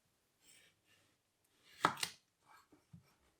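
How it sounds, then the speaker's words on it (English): A knife slices through a Piper potato on a board, cutting slices into French fry strips: a few soft thuds, then two sharper, louder chops close by, followed by faint light taps. "we're just going to cut slices and then cut those slices into the French fry shape"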